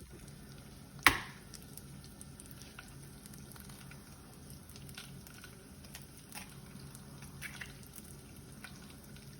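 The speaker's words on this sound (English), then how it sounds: "let's crack our egg" An egg cracked for an omelet, one sharp, close crack standing out once against a quiet background of faint kitchen sizzling and small clicks.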